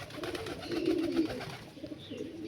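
Soft, throaty cooing from malwai pigeons, one rolling burst in the middle followed by quieter murmurs, fairly faint and close by.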